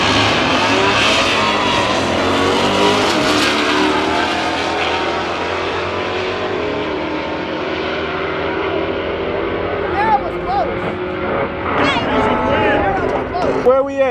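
Camaro and Hellcat racing, engines roaring loudly and revving, with whooshes as the cars pass and people talking over the noise.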